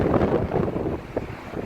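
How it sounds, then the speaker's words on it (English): Gusty outdoor wind buffets the microphone beside a runway at LAX, near an In-N-Out, as a steady low roar with a few louder surges and no talking. "It's really windy."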